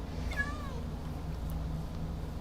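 A Minecraft cat on a cat-powered farm gives a single short meow early on, over a steady low hum that continues throughout.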